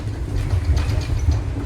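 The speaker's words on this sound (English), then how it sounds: "Oh, there's a train in front of us." Toronto TTC subway train in motion, giving a steady, close low rumble with a faint rattling texture that runs unbroken throughout, with no talking.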